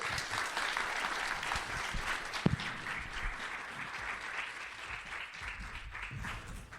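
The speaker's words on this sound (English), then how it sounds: "And please give them a round of applause." Sustained audience applause fills a conference hall at a 2024 energy policy event on liquid fuels, a dense steady wash of many hands clapping at even loudness throughout, with one sharper clap standing out near the middle.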